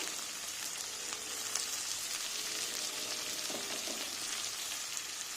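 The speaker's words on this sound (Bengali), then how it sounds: "সবজিটা নেড়ে নিই" Chopped carrot, onion and capsicum sizzle steadily in a hot pan for spicy semolina, with a constant close crackle of frying and a few light scrapes of stirring.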